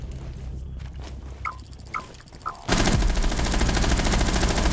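Automatic gunfire in Rainbow Six Siege, a few sharp isolated shots followed by a sudden loud, sustained burst of rapid fire that continues to the end.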